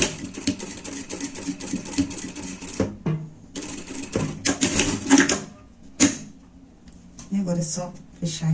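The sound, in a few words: sewing machine stitching a zipper on a jacket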